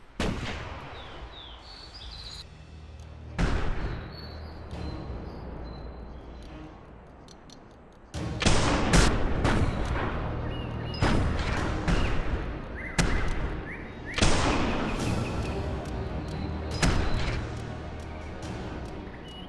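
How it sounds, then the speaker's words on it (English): Rifle shots in the hunting game theHunter 2017: several sharp, loud cracks spread across the scene, each ringing out over a low outdoor ambience, with no talking. "luckily I managed to fire off a shot"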